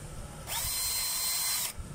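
A power drill driving a screw whirs at high speed for just over a second, a steady buzzing whine that starts and stops abruptly amid low background noise.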